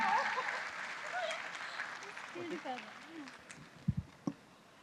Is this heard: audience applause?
yes